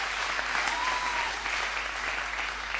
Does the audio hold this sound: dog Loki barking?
no